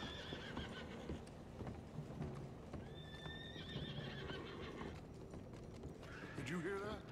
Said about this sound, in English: Did you hear that? Hear what? The horses?